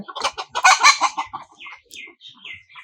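Several native desi chickens cluck and squawk close by in quick, uneven bursts, the loudest calls early, tapering to softer clucks toward the end.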